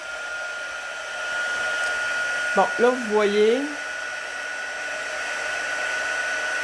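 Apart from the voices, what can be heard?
heat embossing gun heating up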